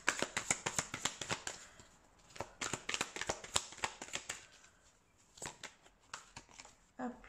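Tarot cards are shuffled by hand at close range in quick, crisp flicking bursts that slow toward the end, with a soft voice speaking faintly underneath.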